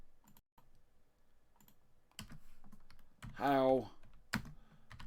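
Quiet clicks of typing on a computer keyboard, scattered taps at first, then a denser burst of keystrokes, with someone speaking briefly in the middle and more taps around him.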